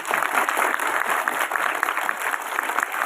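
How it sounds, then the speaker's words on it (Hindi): Loud, sustained applause from a school crowd honoring the national flag at an Independence Day (15 August) ceremony in India, dense steady clapping for about three seconds without a break. "इसलिए मैं चाहूंगा सबसे पहले आप इस झंडे के लिए जोरदार तालियां बजाएं।"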